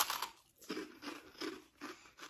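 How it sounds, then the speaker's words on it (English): Crunchy freeze-dried snacks bitten and chewed up close, several sharp crackling crunches in an uneven rhythm with brief pauses between bites, no talking. "They're crunchy. Yeah, they're freeze dried."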